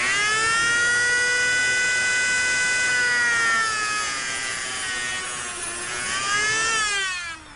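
A rotary moto tool cuts into the outer insulation of coaxial cable while fitting a PL-259 connector, giving a loud, steady high-pitched whine with layered harmonics that sags in pitch under load midway and rises again near the end.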